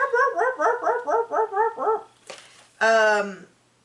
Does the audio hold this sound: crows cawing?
no